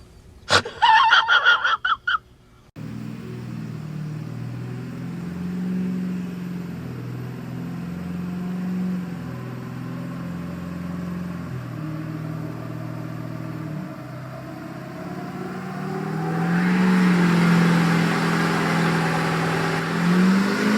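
A 6.0 diesel truck fitted with a BD Screamer turbo runs on a dyno, a sustained engine drone and turbo whine that swells louder toward the end, after a brief burst of voices and clatter at the start.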